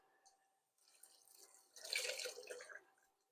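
Hot water splashes and trickles into a pot of Persian eggplant stew with mushrooms, a short, close pour that swells in the middle and then tapers off.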